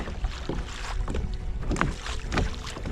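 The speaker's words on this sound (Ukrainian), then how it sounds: "Хвилі б'ють об бортик." Waves slapping against the side of a kayak on the Zbruch river, irregular close splashes and thumps over steady wind rumble on the microphone.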